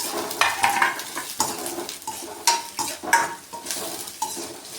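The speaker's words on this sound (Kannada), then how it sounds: "ಇದಿಷ್ಟನ್ನು ಫ್ರೈ ಮಾಡ್ಕೊಳ್ಳೋಣ" Green chillies, ginger and crushed garlic sizzle in a pan while a spoon stirs them in repeated scraping strokes against the metal, close and steady with no talking.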